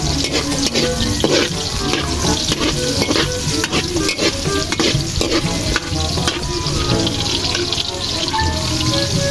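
Beef skin frying in hot oil, loud and close: a dense, continuous crackling sizzle with constant stirring and scraping of a utensil through the pan, no talking.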